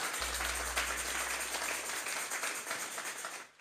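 Congregation applauding for the Lord during a church sermon, a dense continuous wash of clapping from many hands that fades out at the end.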